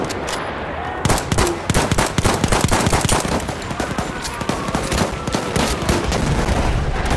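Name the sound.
machine gun fire in the video game Battlefield One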